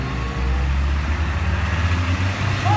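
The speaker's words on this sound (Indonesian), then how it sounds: "ada truk molen lagi atau mixer truk" A concrete mixer truck rumbles low and steady nearby, a heavy diesel drone with a constant hum and no voices.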